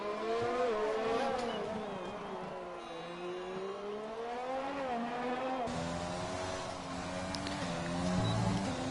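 A Red Bull Formula 1 car lapping in the F1 2020 game, its high-pitched engine whine rising and falling through gear shifts and throttle changes, steady and continuous at moderate volume with faint commentary beneath.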